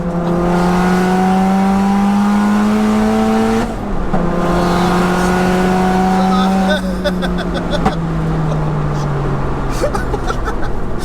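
A 4WD-converted 601 bhp Cupra R engine revs hard through rising gears, pitch climbing steeply then dropping at each shift, loud and close with a brief break between pulls.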